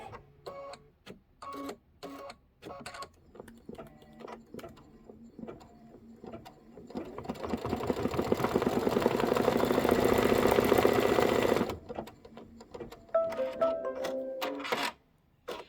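Embroidery machine stitching out a flower design: intermittent mechanical clicks and short stitching bursts, then a sustained loud whirring run of rapid needle strokes for several seconds before returning to sparse clicks and brief bursts.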